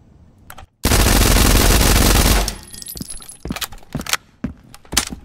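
Automatic gunfire in the shooter game Transience rips out in one loud, sustained burst of about a second and a half, followed by scattered metallic clicks and clinks.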